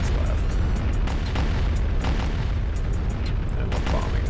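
Heavy booming explosions from a bombing run in a Star Wars Empire at War remake, a dense rumbling barrage with repeated sharp blasts over steady low battle noise.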